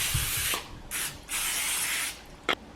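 Short bursts of spray mist breadsticks before they go into a 350-degree oven, three hissing sprays of varying length followed by a brief final puff, close and alone.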